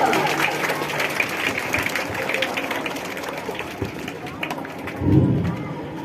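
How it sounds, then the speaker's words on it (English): Applause from an audience after a school performance at Apex International School fills the room, a broad steady wash of clapping with background murmur and a swell near the end. "Please clap for them once again, just to appreciate their hard work."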